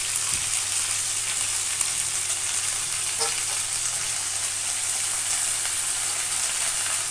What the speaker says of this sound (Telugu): ఈ టమోటాలతో పాటు మునగాకు కూడా వేసేస్తున్నానండి, మగ్గాలి కాబట్టి